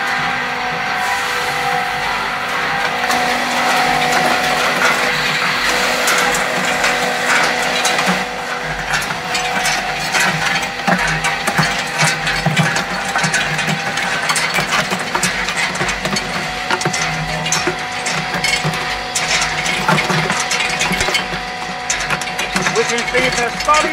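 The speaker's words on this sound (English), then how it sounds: "Number one machine is in function and the ice is coming out from the ice" An industrial tube ice machine runs with a steady mechanical drone and rattling, clattering ice cylinders dropping from its outlet, persisting close by throughout, with a voice talking over parts of it.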